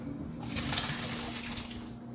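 Water from a pot of boiled potatoes pours steadily through a colander into a sink in a home kitchen, a close, continuous splashing rush lasting the whole moment with no talk.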